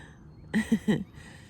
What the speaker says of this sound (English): the crows have been going around warning everybody where they're at this morning